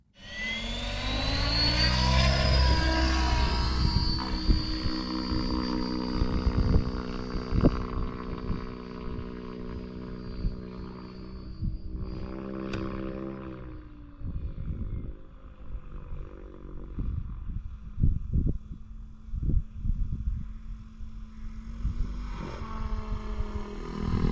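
A radio-controlled 3D helicopter flying an inverted autorotation with a roll gives a loud, steady whine of spinning rotor blades that slowly changes pitch, with the engine sound falling away and gusty rotor swishes near the end.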